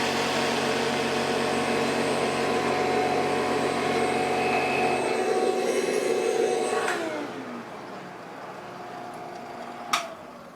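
A jigsaw runs on BLUETTI EP800 battery power, giving a steady, loud motor drone with a buzzing edge that winds down after about seven seconds and ends with a faint click.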